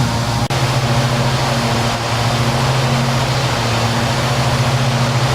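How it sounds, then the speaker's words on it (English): Both aircraft engines idling steadily before takeoff, a loud continuous drone with a low pulsing hum and no voices, recorded from inside the plane. "Both engines are running."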